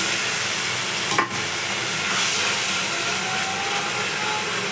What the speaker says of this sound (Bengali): আবার কষিয়ে নেব